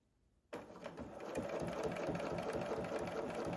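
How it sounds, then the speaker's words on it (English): A home sewing machine stitches an oven mitt, starting abruptly after a near-silent moment, then running in a steady, rapid mechanical whir that holds close and even to the end. "we're just stitching all the way to where our stitches started"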